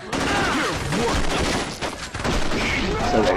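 Rapid gunfire from the game Saints Row 2 rattles in dense bursts with game sounds, continuous and loud throughout, and a voice speaking over it.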